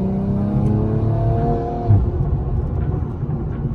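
A tuned BMW M340i with a custom tune makes a loud, close engine rev while driving, rising in pitch, then dropping to a steady low rumble after a quick shift, with no talking.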